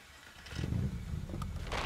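A car drives in the zombie survival game State of Decay Breakdown, giving a low steady engine rumble with light clattering and scraping over its course, without any talking.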